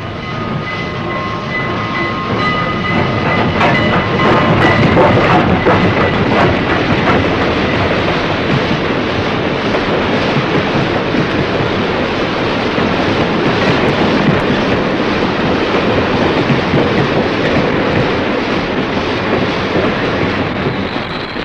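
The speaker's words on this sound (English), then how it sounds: "a train coming into the station" A train arrives at a station with a loud, steady rumble and clatter of wheels, a high brake squeal threading through, continuous and close.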